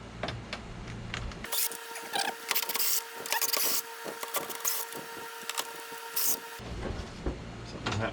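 A screwdriver works screws out of a television's back panel at close range, with small scraping, ticking turns over a faint steady electrical whine.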